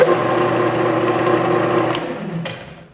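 A benchtop variable speed drill press motor runs with a steady, close whine, then winds down near the end, with a couple of faint clicks.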